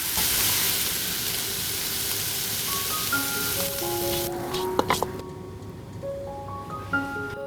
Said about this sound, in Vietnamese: Bây giờ mình đảo rất là nhanh cho trứng chín tới thôi.